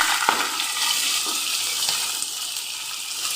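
Chopped mixed vegetables hit a hot pan and fry, giving a loud, dense, continuous hiss with a few faint clicks of stirring throughout.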